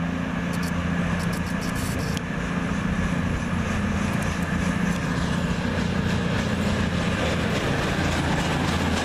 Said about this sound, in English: next up to leave is the slightly delayed 1636 cross-country service to Manchester Piccadilly from Bournemouth